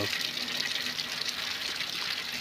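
Rainwater runs off a farm field in a steady, soft rushing trickle, a continuous low wash of flowing water with no pauses.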